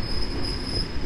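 A train passing through Warszawa Zachodnia station at night, heard as a steady rolling rumble with a thin high wheel squeal running throughout, fairly close, with no voices.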